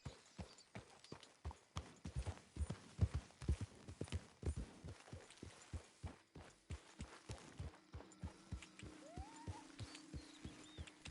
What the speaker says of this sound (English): I don't really have a license to drive this horse.